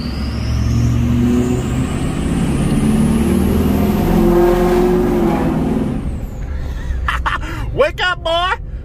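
A Ford 6.0 Powerstroke diesel truck engine with a compound turbo setup drones loud and steady from inside the cab with a rising turbo whistle, then eases off as a voice calls out over it.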